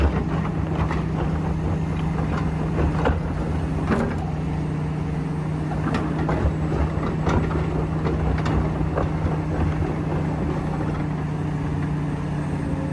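Steady low diesel drone from a massive CAT 365C excavator loading dump trucks on a work site, with scattered knocks and scrapes over constant engine noise and some wind.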